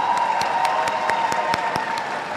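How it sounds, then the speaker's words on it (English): A crowd at a 2022 Sacramento Charter High School graduation ceremony applauds graduating scholars with dense, steady clapping that holds at an even level throughout. "Let's give these scholars a round of applause."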